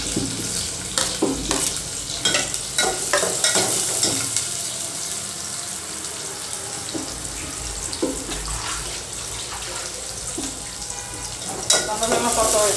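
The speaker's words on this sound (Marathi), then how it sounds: "कांदा चांगला परतवायचा." Chopped onion sautéing in hot oil for a spicy village-style whole chicken curry, a steady sizzle with repeated stirring scrapes and clinks of a spoon against the pan, close and continuous with no voices.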